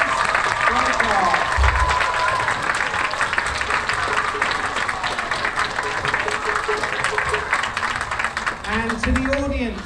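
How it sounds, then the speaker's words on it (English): A crowd of students and staff applauds at a school Chinese New Year assembly. Loud, sustained clapping fills the hall, with voices and cheering mixed in and rising again near the end. "let's give the Chinese language and culture teachers a big round of applause."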